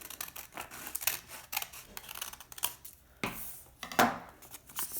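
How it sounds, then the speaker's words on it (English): Scissors cut through a sheet of paper while making a paper rose, a close series of crisp snipping strokes with short pauses, ending in a few sharper closing snips. "we will need to use our scissors and cut off"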